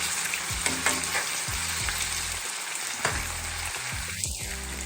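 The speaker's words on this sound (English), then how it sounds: "chicken breast is so easy to cook. So easy to cook. So I'm just gonna cook these for 7 minutes" Chicken breast sizzles steadily in a hot pan, a dense crackling hiss with occasional soft knocks and shifts, close and continuous with no talking.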